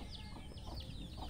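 A hen clucks in quick repeated bursts close by, several short agitated calls in a row over a faint background, with no one talking.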